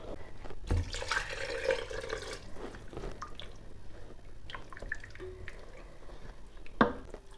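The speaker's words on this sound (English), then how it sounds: "I'm going to add some more water." Water poured into a pot of red lentil curry splashes briefly and then trickles and drips quietly in a kitchen, with a few soft clinks.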